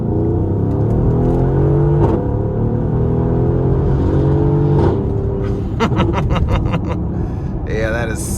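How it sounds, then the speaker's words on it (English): A 2019 Mercedes-AMG GLE 63 S Coupe accelerates from low speed, its engine note climbing steadily in rising sweeps with a gearshift break, heard loud from inside the cabin, with a short burst of talk near the end. "Fantastic acceleration, just fantastic."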